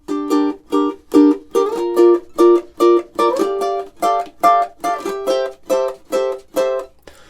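A high G ukulele and a baritone ukulele play measures 5 to 8 of a funk rock duet together, with punchy, evenly spaced staccato chord stabs and short riffs sounding clearly and close, without any voices.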